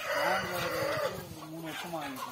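Peruvidai Aseel chickens clucking in a caged poultry farm, a steady dense chorus of calls close by with people talking over it.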